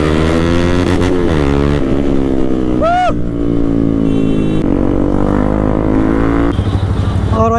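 Yamaha R15 and MT15 sport motorcycles run loud and close, engines holding a steady throaty drone with revving pitch shifts and a sharp exhaust backfire crack partway through.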